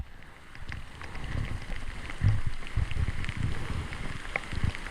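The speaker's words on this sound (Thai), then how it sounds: "ฝนตก" Steady rain falls during a storm with a constant hiss and patter of drops, a low rumble of wind underneath, and no voices.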